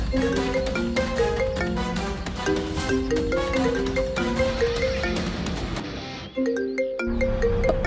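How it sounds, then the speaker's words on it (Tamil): A phone rings with a looping melodic ringtone, repeated bright tonal notes that play continuously, briefly cut out, then resume. "அஸ்வினி ஃபோன் பண்ணிட்டு இருக்கா."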